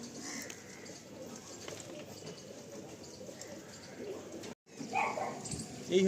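Pigeons cooing in a pigeon loft, a continuous low murmur of soft coos from several birds close by, with a brief dropout near the end.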